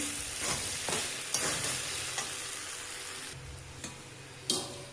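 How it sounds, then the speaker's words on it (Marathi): Puffed rice is tossed and mixed in a pan over a steady frying hiss, with soft scraping stirs and a couple of sharper clinks toward the end, and no voices. "छान असे आपण सर्व मुरमुरे घेतलेले आहेत टाकून। अशा पद्धतीने मस्त घेऊयात मिक्स करून।"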